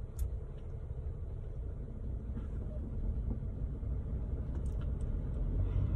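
Inside a moving car, a steady low engine drone and road rumble hold throughout, gradually swelling a little louder, with faint clicks and rattles on top and no talking.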